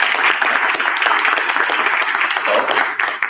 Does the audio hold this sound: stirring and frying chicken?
no